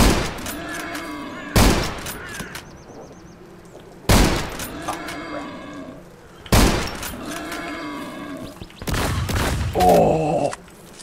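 Four loud, booming shotgun blasts in the survival shooter Zero Sievert, spaced a couple of seconds apart, each with a short decaying tail, over a low game ambience and a brief buzzing effect near the end.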